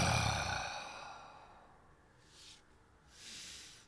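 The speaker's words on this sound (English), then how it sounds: "I like to make an ugly sound to sort of symbolize to myself the ugliness getting breathed out" A single loud, exaggerated exhaling breath, close and forceful, trailing off into quiet with a couple of softer breathy puffs afterward.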